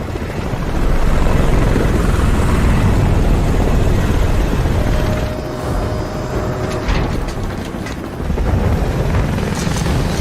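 Helicopter from a SOCOM 4 U.S. Navy SEALs cutscene, with loud, steady rotor and engine noise running nearly throughout and dipping briefly in the middle before swelling again.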